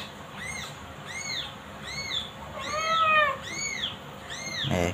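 A small stray kitten meows repeatedly, about six high, thin cries in a steady rhythm, close and fairly loud over a faint background.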